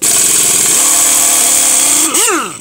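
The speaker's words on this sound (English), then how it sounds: "we're going to zip off these lugs right now and get a look in there" A loud power tool, likely an impact wrench, zips lug nuts off a 1991 Isuzu Trooper wheel, droning steadily at close range before winding down in sweeping pitch bends near the end.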